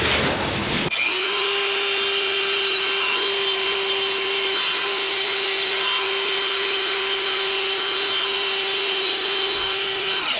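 Dremel rotary tool grinding old foam residue off the surround of a car speaker cone from a Lexus SC, a steady high-pitched whine held at one pitch for about ten seconds after a sudden start, close and loud, with no talking.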